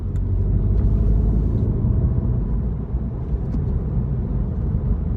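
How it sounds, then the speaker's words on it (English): A 2013-onward Volkswagen Golf GTI Mk7 heard from inside while driving at around 40 mph gives a steady, loud low engine and road rumble with a slight dip midway, with no talking over it. "we shall see the not so sporty sounding GTI"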